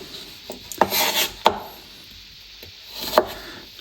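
A sharp knife chopping chili con carne ingredients on a board, a few distinct crisp cuts spaced irregularly, close and fairly quiet with no talking.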